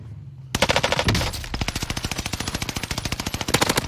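Fully automatic rifle fire in Call of Duty Warzone from a 100-round weapon: one long, loud, close burst of rapid, evenly spaced shots that starts abruptly after a short quiet moment and keeps up to the end.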